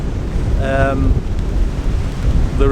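Strong wind in a snowstorm roars and buffets the microphone continuously, a dense low rumble, while a voice speaks briefly over it.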